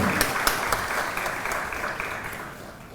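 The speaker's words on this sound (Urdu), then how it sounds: "تو ان کے لیے پرزور تالیاں ہونی چاہیے اسپیکر صاحبان کے لیے" Audience members at a social media workshop ceremony give the speakers a round of applause. The clapping is loud and dense at first, then gradually fades over a few seconds.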